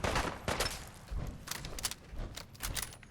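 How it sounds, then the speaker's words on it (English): Rapid bursts of machine gun turret fire from Fallout 4, loud, close-up cracks in clustered volleys with brief gaps, punctuated by heavier thuds. "Machine gun turret."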